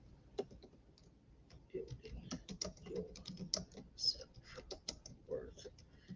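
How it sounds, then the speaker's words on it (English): Steady keyboard typing with irregular clicking keystrokes at close range, quiet and continuing for several seconds with no talk over it. "Right now, I'm sitting here typing."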